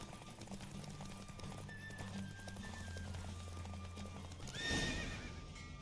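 A horse gallops in a race in The Witcher 3, with rhythmic hoofbeats running under in-game music and ambience, then a brief neigh near the end.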